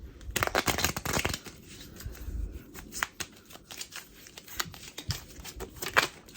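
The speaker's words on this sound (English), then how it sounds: "Let's do our fourth shuffle." A deck of cards shuffled by hand, with quick riffling bursts at the start followed by scattered flicks and taps as the cards are squared, close and fairly quiet.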